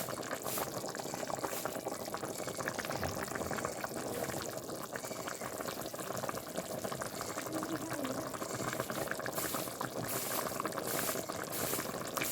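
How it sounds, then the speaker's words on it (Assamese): Jackfruit curry bubbles and simmers continuously in a pot, a dense, steady boiling sound heard up close for the whole stretch. "কি ধুনীয়াকৈ উতলি আছে চাওকচোন।"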